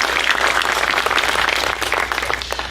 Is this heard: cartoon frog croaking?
no